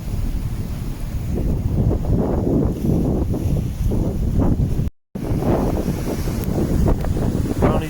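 Strong wind buffets the microphone on a rocky coastline at night during ray fishing, a steady loud roar with gusting surges and surf-like rumble throughout, briefly cutting out near the middle.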